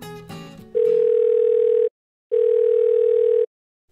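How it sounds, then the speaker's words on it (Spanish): Phone line tone heard while placing a call in a cartoon: after a short clattering noise, a loud steady electronic tone sounds twice, each burst about a second long, separated by a brief silence. "déjame llamar a la señora Chen"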